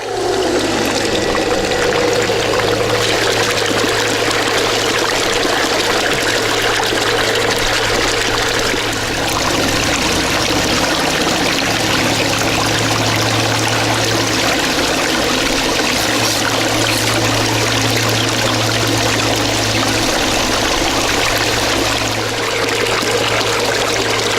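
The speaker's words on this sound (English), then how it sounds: "We ran it through the multi-sluice, which I'll show you here." Water runs steadily through a multi-sluice washing gold concentrates from a rich quartz vein, a loud continuous rushing and trickling flow with a low hum beneath, unbroken and without talk.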